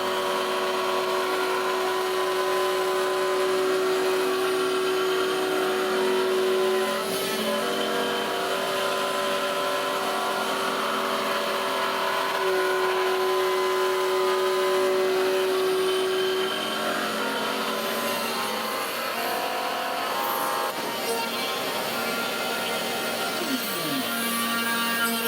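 An MPCNC spindle with a router bit mills steadily, a loud continuous whine and grinding roar that holds a high steady tone, with no voices.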